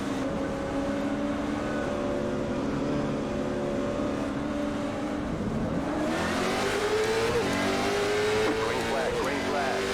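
Simulated race car engines roar in iRacing as a CARS Tour pack takes the green flag at The Bullring at Las Vegas, a steady drone that rises into revving acceleration, with voices talking over it.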